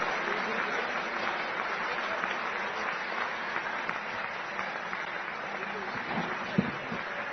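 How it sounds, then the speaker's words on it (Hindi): A seated crowd rises to applaud the chief minister at a Delhi-area gathering, producing a continuous, fairly dense round of clapping at moderate level that holds steady throughout, with one sharp louder clap near the end. "खड़े होकर के हम मुख्यमंत्री जी को तालियां बजाएं"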